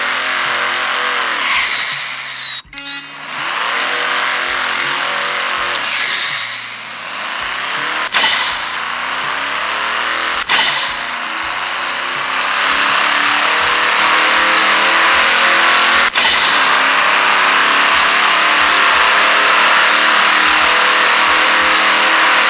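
Car engine revving in the mobile game Drag Racing Street, a loud continuous engine roar with repeated rising revs, sharp gear-shift breaks and brief dips, running steadily and close throughout.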